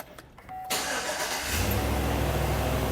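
A 2017 Chevrolet Silverado truck engine cranks briefly and catches, then settles into a steady, loud low rumble close by, with no talking.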